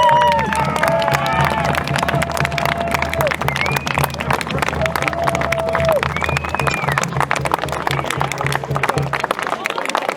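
A crowd at a Sealed Knot Civil War reenactment during Chadderton Day applauds and cheers continuously for about ten seconds, a dense steady roar of clapping with shouts and whoops rising through it, fairly close and loud.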